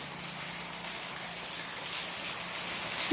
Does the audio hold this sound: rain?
yes